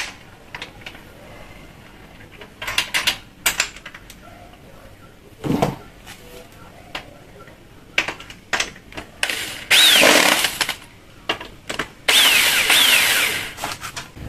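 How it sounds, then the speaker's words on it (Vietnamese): Power drill drives screws into an aluminium Xingfa window frame to fit a single-point lock: short bursts of motor whine and clattering taps, then two longer, loud screw runs up close. No voices. "các bạn bắn hai ốc vô nữa là xong nè"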